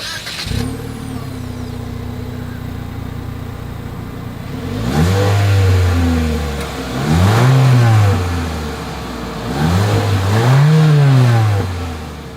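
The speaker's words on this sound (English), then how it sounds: "As always, here is that exhaust clip." A 2023 Mitsubishi Eclipse Cross idling and then revved three times through its exhaust, each rev swelling and falling away, loud and close with no talk.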